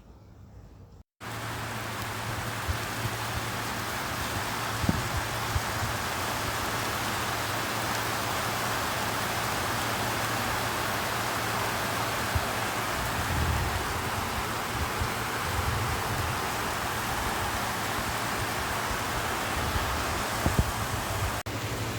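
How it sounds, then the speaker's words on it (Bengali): Heavy rain pours onto a tin roof in a dense, steady roar that starts suddenly and holds constant, with scattered louder drops and taps standing out from the wash. "টিনের চালে বৃষ্টির শব্দ শুনতে কার কার ভালো লাগে কমেন্ট করে জানাবেন বাইরে কিন্তু প্রচুর বৃষ্টি হচ্ছে"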